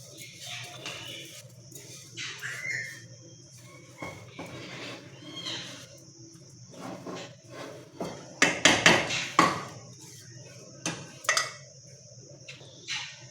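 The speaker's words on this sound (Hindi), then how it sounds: "ये अच्छी तरह मिक्स कर लिया मैंने सारी चीज़ों को, चीनी को, मिल्क को" A spoon stirs sugar and milk together in a bowl, giving irregular scrapes and clinks that get louder and busier toward the middle, with quiet pauses between bursts and no talking.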